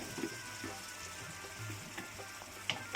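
Meat stirred and fried in browned ginger-garlic paste gives a faint, low sizzle with soft scraping and ticking stir sounds, quiet throughout.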